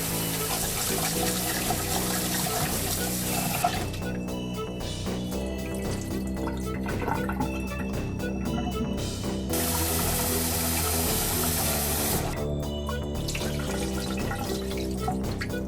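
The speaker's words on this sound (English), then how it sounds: "And you want to wash your rice to remove as much starch as possible." Tap water runs steadily over long grain rice being washed in a sink, a constant close rush with faint dripping and clinking, no talking.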